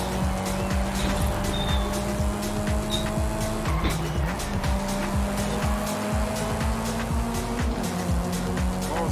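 A car drifting in the Forza racing video game holds a long, loud tire squeal over a steady droning engine, with the pitch wavering as the slide continues.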